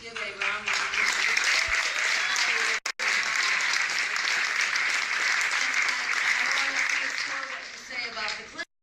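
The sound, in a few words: audience applause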